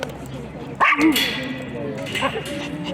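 A single short dog bark rises out of background chatter in a school garden, with voices talking around it.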